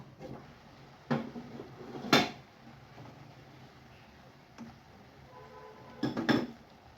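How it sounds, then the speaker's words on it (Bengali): A metal cooking-pot lid is lifted from a pot of vegetable fry with beans, radish, potato and shrimp, making several sharp clinks and clatters spaced apart in a quiet kitchen, the last a quick double rattle. "এখন ডাকনা খুলে দেখব হয়ে গেছে কিনা"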